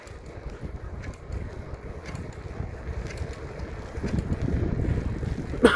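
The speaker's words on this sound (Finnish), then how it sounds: "En tiedä miten se kuuluu, kun niin tuulee kovasti" Strong wind blows into the microphone while cycling outdoors, a steady low rumbling buffet that grows louder near the end, with no talking.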